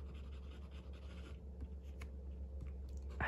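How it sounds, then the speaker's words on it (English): An Aurora Talentum wet Italian fountain pen writing on recycled notebook paper, a faint close scratchy nib sound in short strokes, quiet and without talk. "You can hear the feedback on that paper."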